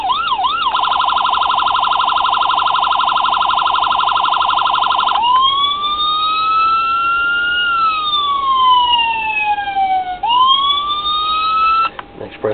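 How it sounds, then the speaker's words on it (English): Siren tones from a diecast Dodge Charger Gaston County Sheriff police model: a rapid warbling yelp, then a sweeping wail rising and falling, switching to another sweep before cutting off, loud and close with no talk. "And of course your siren. You'll see the different sounds."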